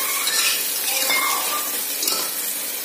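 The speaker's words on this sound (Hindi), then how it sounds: "इसमें हमने साथ ही प्याज भी डालकर सबको अच्छे से 1-2 मिनट के लिए भून लेना है" Chopped onion and spices fry in a pressure cooker for chicken biryani, giving a close, steady sizzle with a few faint clinks of a stirring utensil.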